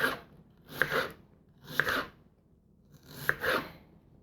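A knife roughly chopping onion on a board, heard as four separate bursts of dry crunching cuts with short pauses between them, close and clear with no talking.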